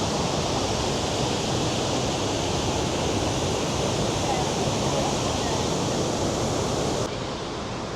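High Force waterfall in the UK roars steadily, a dense, unbroken rush of water falling over rock that stays loud and constant from start to finish.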